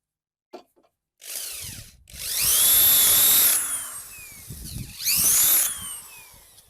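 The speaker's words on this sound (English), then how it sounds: "I'm just struggling to get this last screw in because the wood's warped" A power drill drives a screw into warped wood, two long loud whining bursts with the motor straining and slowing, preceded by brief clicks and handling noise, close up with no speech.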